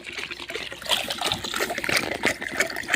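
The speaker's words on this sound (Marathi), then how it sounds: "हे बघा असं पाणी पिते ते." Water trickling and soaking into the soil around a plant during watering on a farm field, a soft continuous dribbling wash that stays close and steady for a few seconds, with no talk.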